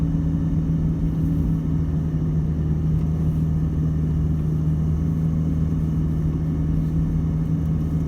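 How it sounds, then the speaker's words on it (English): A 4WD engine labours steadily in low range while driving through soft beach sand near an abalone diving spot, giving a loud, continuous rumble that holds a constant drone throughout with no talking. "Sometimes you just got to keep on the gas and keep it moving."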